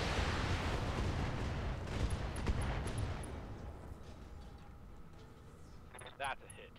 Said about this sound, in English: Here comes lots of missile fun.